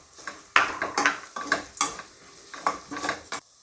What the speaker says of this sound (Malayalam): അതിലേക്ക് നമ്മൾ ഈ മുളക് പൊടിയും മഞ്ഞൾപ്പൊടിയും കൂടി ഇട്ട് ഒന്ന് അതിൻ്റെ പച്ചമണം മാറുന്നിടം വരെ ഒന്ന് ഇളക്കാം